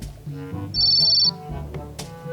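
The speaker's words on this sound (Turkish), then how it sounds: "Kanka açsana telefonu." A phone rings in the Toca Life video game as a single sustained electronic tone sounds briefly over light game music and effects.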